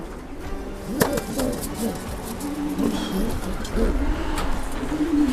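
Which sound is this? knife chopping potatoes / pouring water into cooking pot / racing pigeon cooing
racing pigeon cooing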